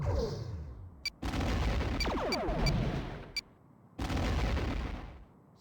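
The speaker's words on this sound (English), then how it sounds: "Torpedo away." A torpedo is fired and explodes in the Star Trek: The Next Generation A Final Unity video game, heard as a few sharp laser-like zaps followed by two loud blasting bursts with crackling decay.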